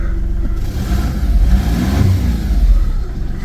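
A VW Polo 6R with a 1.2 TDI diesel engine running just after an EGR valve replacement, close and loud, a steady low idle with a brief rise in revs partway through, no talk.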